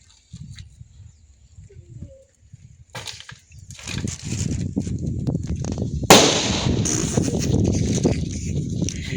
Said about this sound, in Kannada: ಈಗ ನಾವು ಪಟಾಕಿ ಹೊಡೆಯೋಕ್ಕೆ ಅಂತ ಹೋಗ್ತಿದ್ದೀವಿ.